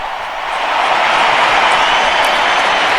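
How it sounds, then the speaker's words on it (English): A large stadium crowd applauds at the Bernabéu in Madrid during Pope Leo XIV's visit, a dense, steady wash of clapping that swells after the first half-second and holds loud. "Pope Leo is clapping"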